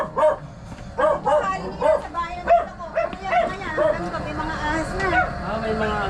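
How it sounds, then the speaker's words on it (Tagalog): A small dog yips and barks repeatedly in quick, sharp bursts, fairly close, with some whimpering, while people talk in the background. "May maliit na aso."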